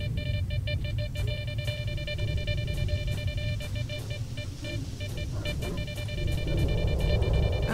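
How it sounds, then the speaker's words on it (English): In the S.T.A.L.K.E.R. Shadow of Chernobyl video game, a device gives repeated, evenly spaced electronic beeps that keep sounding over a low, rumbling background for several seconds. "What are you beeping about?"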